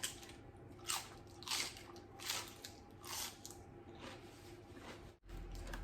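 Fresh raw vegetables served with baked sausage are bitten close to the ear, giving a series of crisp, crunchy bites about once a second with chewing in between and no talking.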